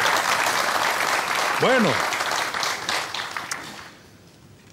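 Studio audience applause on a Canarian music and variety show, a broad wash of clapping that carries steadily and then fades out, with a short spoken word from a host near the middle.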